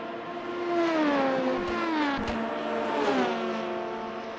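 Ferrari race cars in an endurance racing video game, engines whining with rising and falling pitch as they pass and shift, steady and close with no talk.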